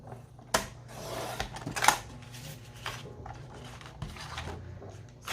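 Scissors cut paper for a DIY fall cover for a Happy Planner. Close, crisp snips and rustles come in irregular bursts, with a few sharper clacks in between.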